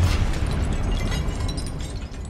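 A Confringo explosion spell in Hogwarts Legacy, a dense, sustained blast of broadband rumble with crackling bursts, loud and steady for the whole moment with no voices.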